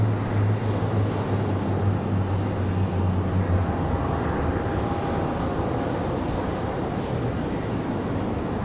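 An Air France Boeing 787 Dreamliner arriving at Raleigh-Durham airport gives a steady, loud broadband engine roar with a low hum that fades midway, mixed with wind noise and no talking.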